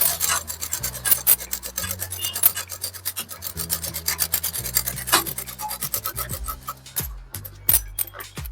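A sewing machine stitches a seam on a kurti, its fast rasping clatter running close and continuous over a low motor hum that starts and stops in short bursts.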